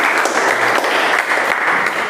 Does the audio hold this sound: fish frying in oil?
no